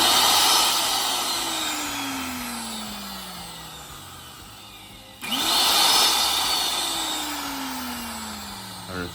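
A faulty angle grinder whirs loudly and steadily like an air blower, close to the microphone. It briefly dips and restarts mid-way with a falling whine, then spins back up to a sustained roar.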